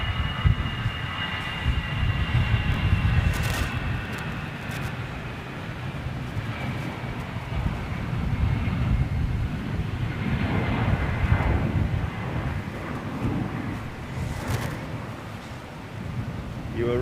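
A jet airliner with CF6 engines roars past at a distance, a continuous broad, rumbling engine wash that swells and holds for the whole span.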